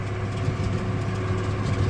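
A 1983 two-wheel-drive 120-horsepower tractor pulling a 22-foot disc, its engine a steady, loud low drone with a rumbling, even tone.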